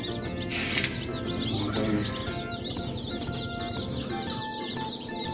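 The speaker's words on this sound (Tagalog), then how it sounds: "papakainin ko din ito mga chicken sa ngayon" Rhode Island Red and Hubbard cross chickens at feeding time on a free-range farm, soft clucks and rooster-like calls with brief wing flaps over a constant background hum, close and moderately loud.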